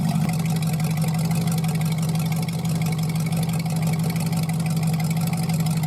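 The custom-built Automatron show vehicle, a street-legal one-off, idles with a steady, close engine hum carrying a strong low drone and an even, unbroken rhythm throughout.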